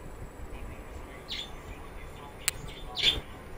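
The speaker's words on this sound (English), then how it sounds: "sorry for the damn birds" Birds chirp outdoors in the background, a few faint tweets and one sharp brief call over a steady hiss, with no talk.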